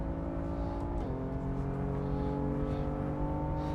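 The simulated engine of a BMW M4 race car in Assetto Corsa at Donington Park drones steadily and close, with a brief pitch drop like a gear change before holding a sustained tone.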